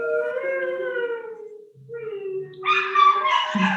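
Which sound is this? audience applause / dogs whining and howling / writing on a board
dogs whining and howling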